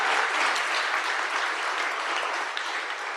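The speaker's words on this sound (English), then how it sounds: "when you see Madeline Drake, tell her we all clapped and cheered for her" Steady, dense applause from a large summit audience, clapping continuously at even loudness throughout without any voices rising above it.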